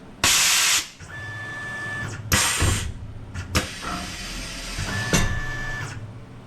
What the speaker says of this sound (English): You can hear the air blast.